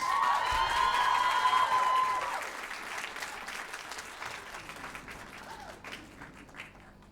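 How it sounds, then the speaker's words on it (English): Applause for a girls' school group at a school music concert, loud at first over fading tones, then thinning out to scattered clapping and some cheering. "Let's give them a round of applause, please"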